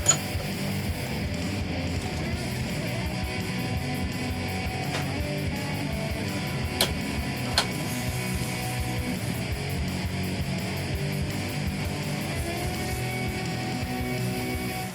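A belt grinder works a compound-ground EDC knife blade, giving a steady, loud, continuous whine and rasp. A couple of brief metallic clicks break through the drone, and no one speaks.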